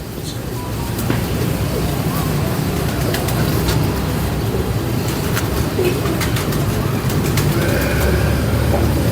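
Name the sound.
Ferozpuri pigeons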